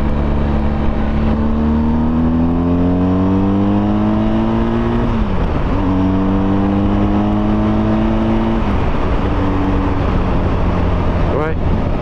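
BMW R 1250 GSA motorcycle on a ride, the engine droning steadily up close as it climbs through the gears, dipping at shifts, with strong wind rush throughout.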